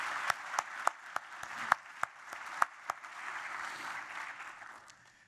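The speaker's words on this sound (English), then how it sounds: "So please give a round of applause to Meryl" An audience at a peace awards ceremony claps, with sharp individual claps standing out over a softer bed of applause that thins and fades toward the end.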